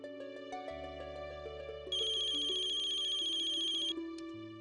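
A phone ringtone plays a melodic electronic tune, close and steady, with a brighter high chiming layer in the middle.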